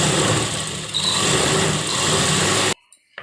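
A sewing machine runs a continuous, steady whir while stitching a double seam on a one-piece A-line kurta, then cuts off abruptly near the end, leaving near silence and a faint knock.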